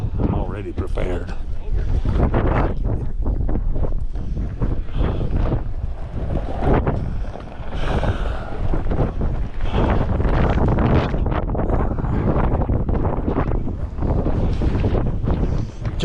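Strong wind roaring across the summit of Mt. Washington, loud and constant, buffeting the microphone with gusty rumble throughout.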